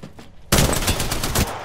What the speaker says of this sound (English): I totally hit all of my shots